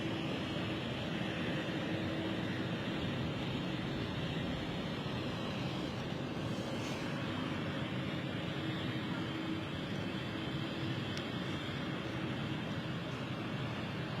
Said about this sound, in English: let's bring you the takeoff